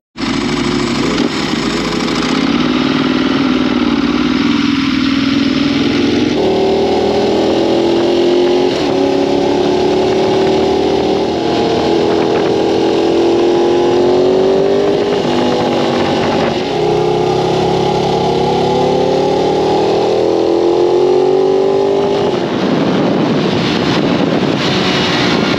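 A 2009 Ducati 1198S engine on a track day, loud and constant, its pitch rising through the gears and dropping on shifts, with heavy wind buffeting the onboard microphone.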